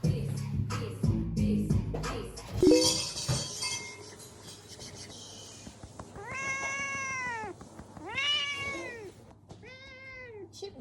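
A pet cat meows several times in clear, drawn-out calls, near and fairly loud, after some clattering and handling noises at the start.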